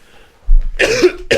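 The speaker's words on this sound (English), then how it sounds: "This cough is annoying." A person coughs a few times in a quick burst indoors during a podcast recording, loud and close to the microphone, with a brief pause before a final cough.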